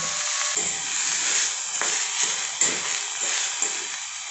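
Onion sautéing in a pan, a steady close hiss and sizzle that runs throughout, broken by a few soft stirring scrapes, with no talk.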